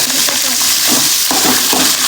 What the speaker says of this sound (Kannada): ಈಗ ನೆಕ್ಸ್ಟ್ ಹಸಿಮೆಣ್ಸಿಕಾಯಿ ಹಾಕ್ತಿದೀವಿ